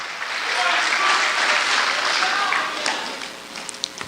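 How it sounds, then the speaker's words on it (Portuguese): A church congregation applauding during a sermon, a broad sustained wash of clapping that swells and then thins out, with a few scattered louder claps near the end. "pode aplaudir, mas aplauda mais forte, com mais convicção"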